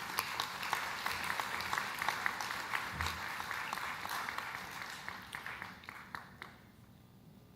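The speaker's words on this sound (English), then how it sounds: "I want you to give them a round of applause" Audience applause at a United Nations forum on the future of the Caribbean in Trinidad and Tobago, a sustained round of clapping that thins out and stops near the end.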